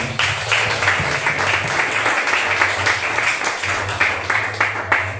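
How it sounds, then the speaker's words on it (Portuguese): Church congregation applauding Jesus, a dense steady wash of clapping hands sustained throughout, with a low organ or keyboard drone underneath. "Agora aplauda o Senhor Jesus."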